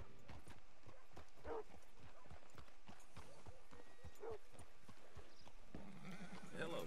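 Horse hooves clip-clopping at a walk in Red Dead Redemption 2, with a short whinny, irregular thuds close by while a person talks.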